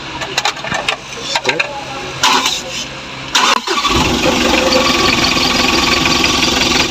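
A Mitsubishi L300 engine with water mixed into its oil cranks in several short bursts, then catches and settles into a loud, steady idle.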